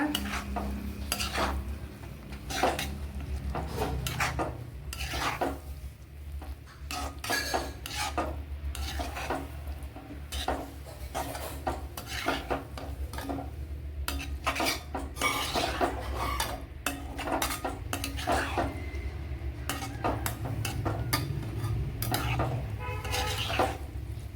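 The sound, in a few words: stirring cauliflower in a cooking pan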